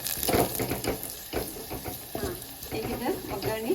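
Garlic and turmeric sizzle and crackle in hot tempering oil with curry leaves for a Sankranti bhaji, a steady hiss broken by stirring scrapes and pops.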